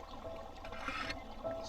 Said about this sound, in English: just listening to the running water